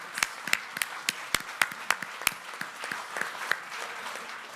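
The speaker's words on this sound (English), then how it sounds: "So let's give them a round of applause." An audience applauds the winners at a Most Fundable Companies event, giving a brief burst of sparse, distinct claps at moderate distance that comes through as a few dozen sharp hand claps without voices.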